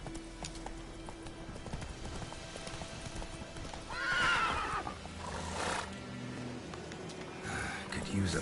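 Roach, Geralt's horse in The Witcher 3, clip-clops along at a steady trot and gives a clear whinny partway through, loud and close, with brief game speech around it.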